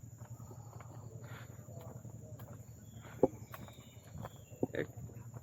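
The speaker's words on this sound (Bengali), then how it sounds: "আমার কথা আর ঝিঝি পোকা ছাড়া আর কিচ্ছু শব্দ শোনা যাচ্ছে না" Crickets chirp steadily in a quiet night in the Sundarbans forest at Harbaria, a faint continuous trill with a couple of brief sharp clicks and rustles.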